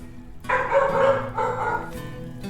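A pet dog barks indoors, close by, letting out a few sharp barks in quick succession with short pauses between them.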